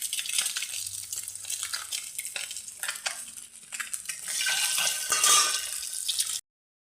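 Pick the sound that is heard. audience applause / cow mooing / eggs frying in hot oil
eggs frying in hot oil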